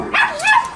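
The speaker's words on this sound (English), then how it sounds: "you can hear the dogs." A dog gives a short, close pair of barks, yelping and loud, heard at a house.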